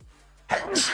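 A single human sneeze, close and abrupt, bursting out loudly after a brief quiet moment.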